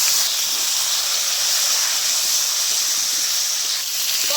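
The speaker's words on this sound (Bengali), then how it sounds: "একই সাথে আমি বেগুনও ভেজে নেব" Eggplant fries in hot oil alongside potatoes, producing a loud, even, hissing sizzle that holds steady throughout with no voices.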